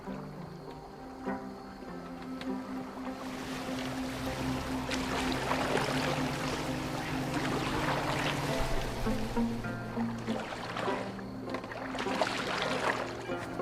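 In Assassin's Creed Valhalla, a boat moves through water with sloshing, splashing strokes and surf-like washes over a low steady hum, growing busier midway.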